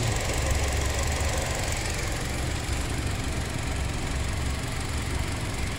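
A 2006 Saturn Vue's 2.2-liter four-cylinder engine runs at a steady idle, a dense continuous mechanical drone with a faint high squeal, heard close and loud with no talking.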